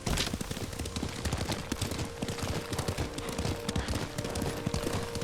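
Steady, dense hoofbeats of a horse being ridden in the video game Ghost of Tsushima, close and continuous, with crackling effects that sound like gunfire mixed in and no talking.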